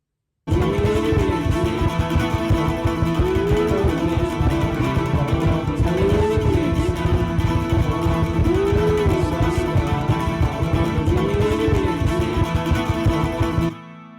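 Acoustic guitar layered through a loop pedal plays a full bridge, a dense, loud wall of repeating strummed and percussive parts with a recurring bending riff, cutting off abruptly at the end.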